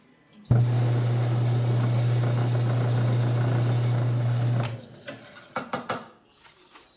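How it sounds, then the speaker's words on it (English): A drill press hums steadily and loudly while it drills a recoil starter part for a 1991 Arctic Cat Super Jag snowmobile, then stops, followed by a few scattered clicks and knocks. "Now I'll go drill it on the drill press."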